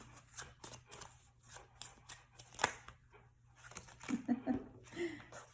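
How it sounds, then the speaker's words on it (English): Tarot cards riffle and slap in short bursts of shuffling, soft and close, with a faint steady hum underneath. "I'm just gonna shuffle a bit more."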